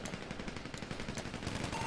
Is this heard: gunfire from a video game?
yes